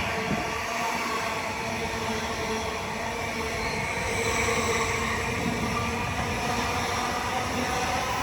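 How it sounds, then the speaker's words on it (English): A Greater Anglia Class 745 electric train passes through Stratford station, a continuous loud rolling roar with steady hum and rumble throughout, no voices. "find ourselves a Greater Anglia service passing from Norwich to London Liverpool Street"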